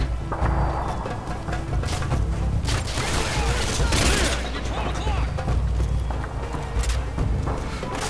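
Gunfire in the video game Modern Warfare 2, dense overlapping shots and booms in a continuous firefight, with a voice talking over it at times.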